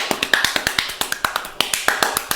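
Close, rhythmic hand claps from a single person, about twenty crisp, evenly spaced claps in quick succession with nothing else underneath.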